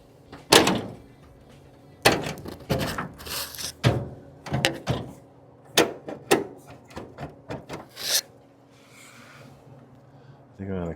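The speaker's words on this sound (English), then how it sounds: "the door is shut where we want it." A door and door latch on a 1938 custom Cadillac under construction click and clunk in a workshop, giving several sharp close metallic knocks and shuts in an irregular sequence with faint background hum.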